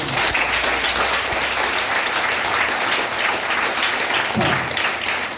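A large audience of students claps loudly at a motivational class held in a college in Jagtial, a thick and sustained roar of hands that carries on evenly for several seconds.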